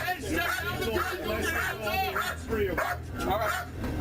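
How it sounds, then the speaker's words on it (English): A dog released from a house during a police call barks and yips in repeated bursts, close and loud, while officers talk over it outdoors. "She let the dog out."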